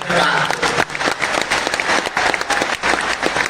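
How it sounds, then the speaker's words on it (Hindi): Dense applause from a large audience at a religious discourse gathering, steady clapping filling the whole stretch without pause, loud and close. "ताली बजा करके धन्यवाद।"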